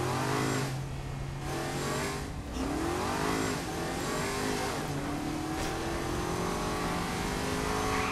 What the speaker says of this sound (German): da ist ein Auto mit diesen Saints-Masken vorbeigefahren